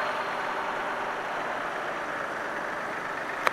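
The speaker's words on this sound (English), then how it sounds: "The Volkswagen behind, pretty certain that's a V8 in there, the old V8 petrol engine" An old V8 petrol engine in a vintage Volkswagen truck at a classic commercial vehicle show runs steadily at a low, even idle under broad outdoor noise, with a brief click near the end.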